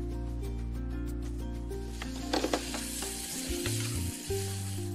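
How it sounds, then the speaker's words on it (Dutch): Onions sizzle and fry in hot oil in a pan, a steady crackling hiss that rises briefly with stirring and rattling, close and fairly loud throughout with no talk. "Gaat die uien er gelijk in."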